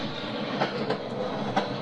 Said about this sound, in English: Vietnam do the whole narrow gauge system as opposed to standard. Oh my God. But the train is absolutely huge.